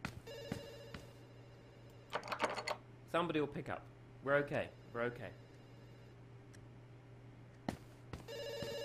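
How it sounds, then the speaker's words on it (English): Telephone ringing through a call in progress, with repeated electronic ring bursts spread across several seconds under a person's occasional nearby speech and light clicking. "It's ringing. Somebody will pick up."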